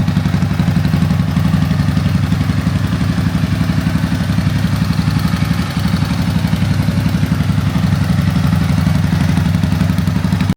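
A carbureted engine runs with its air box and air filter removed, held at high RPM in third gear. It gives a loud, continuous, close-up drone with a rapid pulsing texture and one brief dip partway through.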